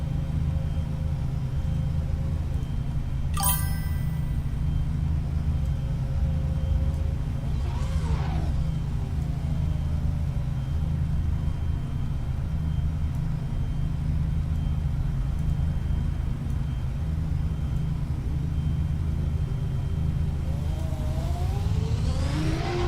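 Steady low engine drone from a car in the Assetto Corsa EVO racing sim played in VR, fairly quiet and continuous, with a few brief rising whooshes of passing or shifting near the end.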